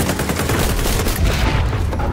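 Continuous heavy gunfire in the video game XDefiant, a loud, close, dense stream of rapid shots with booming impacts and no pauses.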